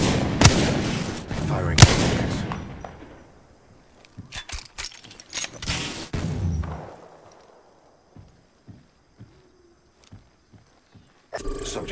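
Apex Legends gunfire cracks loudly in a few close bursts early on, then thins to scattered faint pops and clicks across a quieter stretch before a final loud burst.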